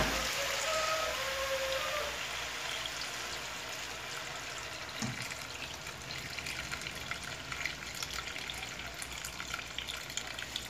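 Water poured into a hot pan on a wood-burning stove hisses and sizzles, starting loud and easing into a steady crackling fizz that carries on for several seconds.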